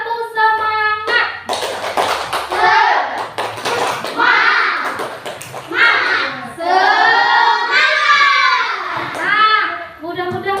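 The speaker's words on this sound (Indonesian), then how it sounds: "coba kita tepuk semangat" Schoolchildren in a classroom perform a rhythmic spirit clap, sharp patterned hand claps in quick bursts mixed with loud chanting young voices, with a teacher's voice heard early on.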